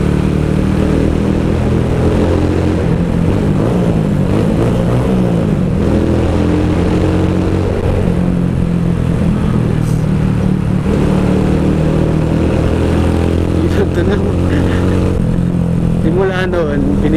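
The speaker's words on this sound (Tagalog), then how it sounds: "yung tunog ng CR-152 dito sa tunnel" CR-152 motorcycle with a beer bottle exhaust pipe rumbling steadily in a tunnel, a continuous loud engine drone with wind noise and occasional nearby passing traffic, recorded while riding.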